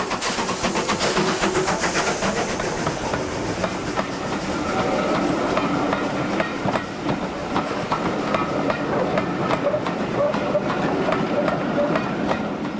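Steam locomotive Aberdeen Commonwealth passes at Eastleigh with a steady rumble and rhythmic clickety-clack of wagons over rail joints, sustained and fairly loud throughout with no voices.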